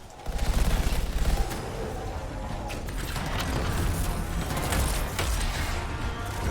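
Sustained video game gunfire aimed at a tough legendary enemy, a loud continuous stream of shots with mechanical clatter and no talking.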